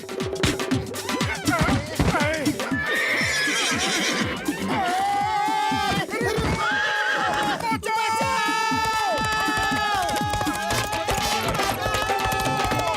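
A horse in the Motu Patlu animated cartoon neighs repeatedly in loud, quavering whinnies, set against busy background music, crowd-like noise and overlapping cartoon voices.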